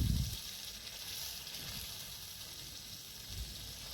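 Doi paneer curry, a Bengali yogurt and paneer dish with little water, simmering on low heat in a pan, giving a faint steady sizzle and bubbling hiss after a brief thud at the start, with no talking.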